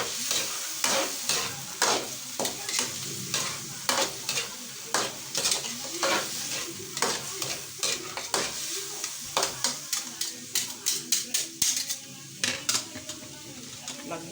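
A spoon or spatula stirs sotanghon noodles frying in a pan, a run of sharp scraping and clacking strokes in an uneven rhythm over a continuous sizzle, close and fairly loud, with a voice talking briefly.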